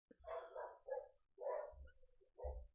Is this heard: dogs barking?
yes